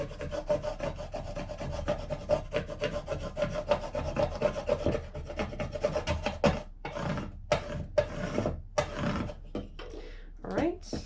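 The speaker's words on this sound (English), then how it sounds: "take my scraper tool again and burnish that down" A plastic scraper tool burnishing vinyl transfer tape onto a craft surface makes close rasping rubs in quick repeated strokes, with a voice speaking at times over them.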